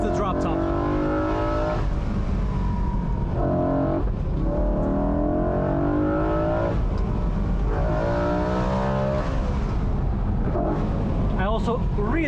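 A 2008 BMW M3 E93 convertible driven hard on a mountain road, its engine revving and climbing through gears in repeated rising sweeps with gear changes, loud and close, with someone talking over it.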